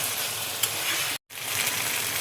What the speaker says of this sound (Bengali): মশলাটা দেখো কষানো হয়ে গেছে।